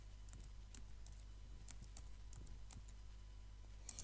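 Someone types on a computer keyboard with scattered, faint, irregular keystroke clicks over a steady low hum.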